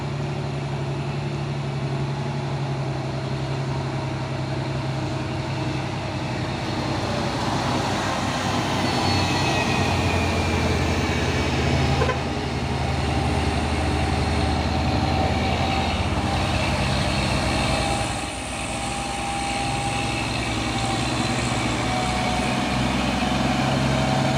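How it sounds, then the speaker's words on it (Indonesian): An Ude Twister box truck passes along a busy road, its engine drone and tyre roar sustained and fairly loud for a long stretch, with a brief dip near the end as traffic keeps moving. "Truk box Ude Twister."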